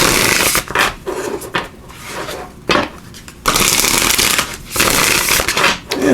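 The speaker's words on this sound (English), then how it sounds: "We'll give these a good shuffle." Oracle cards shuffled briskly by hand, giving loud, close riffling and flapping bursts in repeated rounds separated by short pauses, with no speech.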